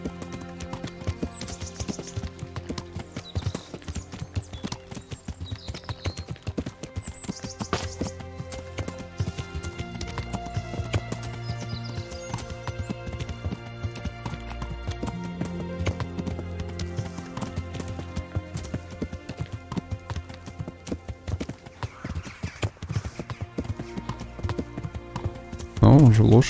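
Horse hooves clip-clop in a steady, rapid galloping rhythm in the video game Kingdom Come: Deliverance, running continuously at moderate volume with someone talking over it.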